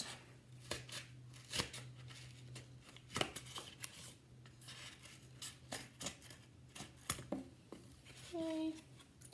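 Scissors cut through thick material into pieces, with a series of crisp, irregular snips and rustles separated by short pauses, fairly quiet and close.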